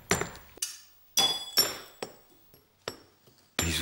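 A mosaicist's marteline hammer splits marble and glass tesserae: about eight sharp, ringing clinks at irregular intervals, close and crisp, with no talk.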